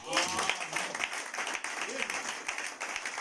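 Applause from a congregation, fairly distant, clapping steadily under a voice speaking over it.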